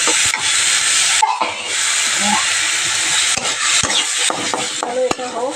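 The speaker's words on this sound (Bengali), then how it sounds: "এই যে কড়াইতে নেড়ে নিচ্ছি" Loud sizzling and hissing from a hot wok as spices with turmeric and a little sugar are stirred dry, scraping strokes, a few clanks of a spatula on metal toward the end.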